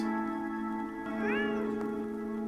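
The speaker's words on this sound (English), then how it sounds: "they're going all in on the cats for this one" A cat meows in a video game trailer, one short rising-and-falling meow partway through, set against a steady tonal music bed.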